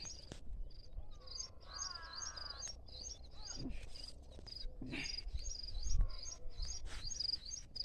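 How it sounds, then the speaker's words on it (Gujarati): Small birds chirp in repeated bright bursts from an open millet field, with steady insect buzzing underneath and occasional soft rustles and knocks nearby. "પેલી બાજુ બાજરો છે, અહીંયા ચકલા ઉડાડે, અવાજ સાંભળી શકો છો."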